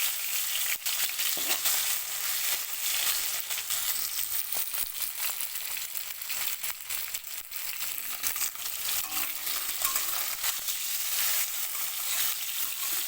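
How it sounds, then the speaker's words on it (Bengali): Small puti fish (pool barb) crackle and sizzle in hot oil, a dense, steady spitting hiss with occasional crisp pops, close and continuous for the whole stretch. "প্রথমে মাছগুলো আমি ভেজে নেব"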